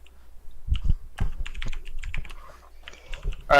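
Close, steady typing on a computer keyboard at a tabletop role-playing game session, uneven clusters of crisp key clicks with a few heavier thumps, no voices.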